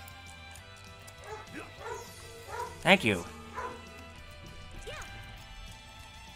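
Indoor dogs bark off-mic during a home gaming livestream: scattered yips build to one loud, sharp bark cluster near the middle, then a fainter yelp, with brief speech and game sound.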